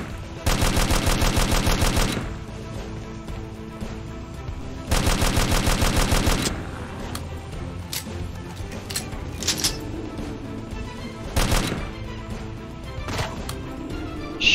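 Bursts of rapid automatic gunfire in the video game Predtechi, two long loud volleys followed by scattered single shots and impacts, with faint voices under the noise.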